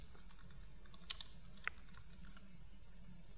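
Soft typing on a computer keyboard while entering a username during a Windows setup on a Mac, a few faint scattered key taps over a low steady hum.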